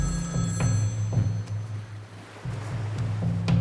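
Telephone ringing in a scene from an action film, a repeating tone that comes in regular pulses over a low steady background.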